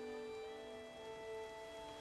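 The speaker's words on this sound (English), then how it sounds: "There's no point standing here in the rain." Steady rain in The Witcher 3, a soft continuous hiss of drops on surfaces, with tonal game ambience humming underneath and no voices.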